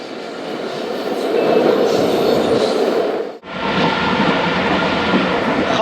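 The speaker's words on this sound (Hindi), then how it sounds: "खानपुर निकलते ही दोस्तों ट्रेन की स्पीड में इजाफा हो जाता है" Tezgam Express passenger train picking up speed on the rails after Khanpur, a loud continuous rumble with a brief dip midway before the steady roar resumes.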